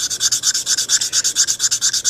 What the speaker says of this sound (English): I find you can go right to a final finishing of steel wool after the 320 grit.